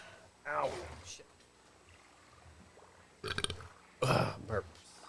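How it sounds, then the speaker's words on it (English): Two loud, rough burps break out near the end. Outdoors, someone talks before and between them. "Burp."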